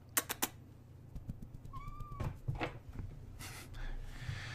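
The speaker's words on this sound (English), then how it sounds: "And this is my cat, Zuzu, by the way." A pet cat named Zuzu gives a single short, rising-and-falling meow near the middle, moderately close, between a few sharp clicks and knocks in an otherwise quiet room.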